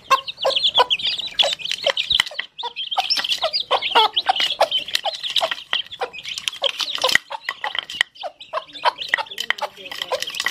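Hens cluck steadily while chicks, including Aseel chicks, peep and chirp in quick, overlapping bursts as they eat feed, close and loud, with a busy, continuous rhythm throughout.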